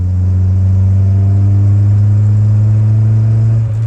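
A 1985 Honda CRX Si engine holds a steady, loud mid-pitched drone while shifting gears without the clutch, with a brief dip in tone near the end as the shift into fourth gear lands.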